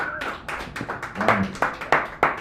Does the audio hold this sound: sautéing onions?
no